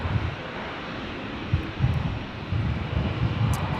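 An Air Nauru airliner lines up for departure at Brisbane airport, its engines giving a low, steady distant rumble with wind buffeting the microphone.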